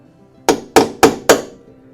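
Four sharp, evenly spaced hammer strikes knocking rivets back into a body panel of a 1966 Ford Mustang being sanded for primer, each blow loud and close with a short metallic ring, then quiet.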